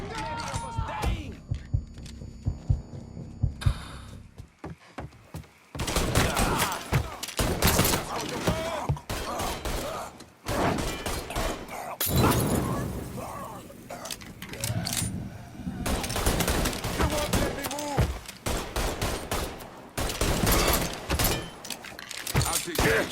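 Dense bursts of gunfire rattle through a Mafia 3 Definitive Edition shootout, loud and nearly continuous with brief lulls, and shouting voices break in now and then.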